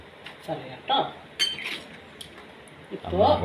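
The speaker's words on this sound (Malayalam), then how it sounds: "കിട്ടാത്തതുകൊണ്ട് ഇളക്കിയ മസാല വീണ്ടും ഇളക്കിക്കൊണ്ടിരിക്കുകയാണ്" Spoon stirring masala in a cooking pot, giving a few soft clinks and scrapes of metal in short irregular bursts, fairly close and moderately loud.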